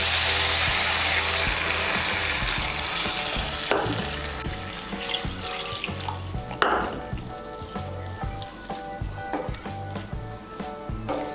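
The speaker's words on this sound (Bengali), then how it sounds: "এখন এর মধ্যে দিয়ে দেব জল। আপনারা যেরকম ঝোল খাবেন সেই অনুযায়ী জল দেবেন। আমি এর মধ্যে 2 কাপ জল দিচ্ছি।" Water poured into a pan of spiced potatoes frying for a curry, a loud steady sizzle with a burst at the pour that settles into bubbling frying and stirring, with no one talking.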